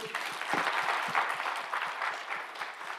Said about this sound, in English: Ladies and gentlemen, please give my panel a round of applause.